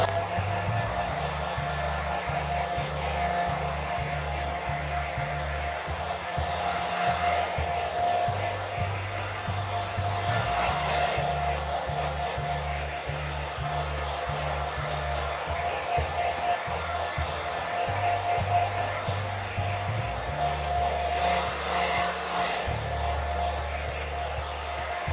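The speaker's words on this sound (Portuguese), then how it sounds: "agora vou secar com o secador." A hair dryer blows steadily on freshly applied paint on a handmade craft box, a continuous close whirring drone with a low motor hum that shifts slightly in pitch as the dryer moves, running without talk.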